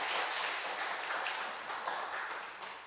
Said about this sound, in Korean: 고생했다고 박수 한번 하시고요